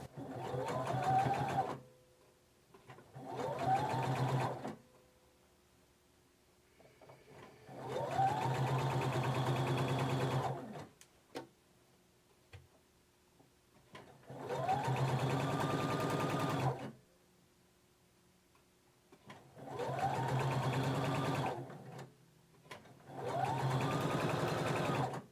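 Sewing machine stitching a neckband onto the edge of a romper or dress top, heard in six distinct bursts of steady whirring separated by short quiet pauses, close and clear with no talking.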